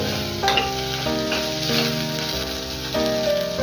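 Toor dal sizzles steadily as it fries in a hot tempering for a Rayalaseema-style fenugreek dal, a soft continuous crackle running beneath background music with stepped tones.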